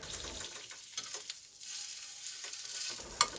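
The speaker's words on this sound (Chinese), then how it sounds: "培根像这样煎的稍微焦焦脆脆的" Bacon frying in a pan until slightly crisp, its fat rendering out, gives a close, steady crackling sizzle with small pops and stirring sounds, ending in a sharper pop; no voices.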